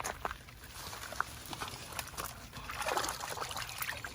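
Freshly harvested radishes get rinsed and shaken in water, giving irregular sloshing and trickling splashes that swell around the middle of the clip, close by but fairly soft, with no talking.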